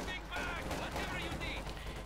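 Partisan infantry firing SVT-40 rifles at Panzers in the strategy game Company of Heroes 2, a dense spread of overlapping gunshots and battle noise running continuously beneath a steady bed of game sound.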